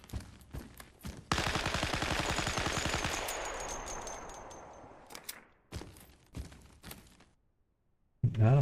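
Rapid automatic gunfire from a weapon in the video game Vorax rattles out in one dense, loud burst of about four seconds, trailing off into scattered clicks and faint handling sounds.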